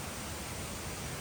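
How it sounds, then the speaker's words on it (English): A waterfall pours steadily in the background, a continuous broadband rush with no breaks and no voices over it. "I hope you can hear the waterfall in the background."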